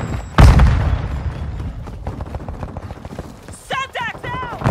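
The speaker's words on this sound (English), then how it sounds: "Throwing Semtex!" A Semtex grenade detonates in Call of Duty Mobile multiplayer: one loud, close boom early on, followed by scattered smaller impacts and footsteps, with chirping game sounds near the end.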